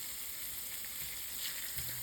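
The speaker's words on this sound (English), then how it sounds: "Oh, there's oil popping everywhere, so I gotta turn the temperature down" French fries fry in hot oil late at night, giving a constant close hiss with faint pops scattered through it and nobody talking.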